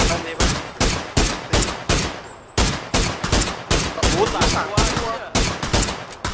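Repeated PUBG gunshots, roughly a dozen heavy, close shots in a quick, steady cadence, broken by one brief pause before the firing resumes.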